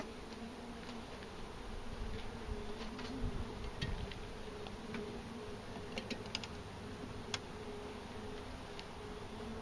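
Honeybees buzzing softly in an opened beehive with an upper super, a steady low drone with scattered faint ticks and clicks from handling the hive.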